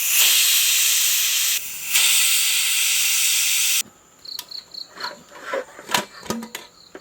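A pressure cooker making pulao releases a loud, steady steam hiss for nearly four seconds with a brief dip, then cuts off, leaving quieter scattered clinks and knocks.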